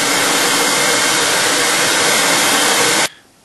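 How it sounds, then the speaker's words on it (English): A hair dryer blows loudly and close up as it heats pinball machine plastic, a steady roaring whoosh that cuts off sharply near the end and leaves only quiet room sound. "this plastic has just come out from under the hairdryer"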